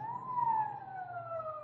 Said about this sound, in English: Sounds like it's stopping in front of the house.